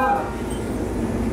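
A train runs through a tunnel on the approach to remote Koboro station in Hokkaido, a steady close rumble of wheels and carriage under a low hum for a brief stretch.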